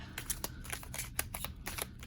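Tarot cards being shuffled by hand, a soft papery riffle and slap repeating in quick irregular bursts against a faint low background hum.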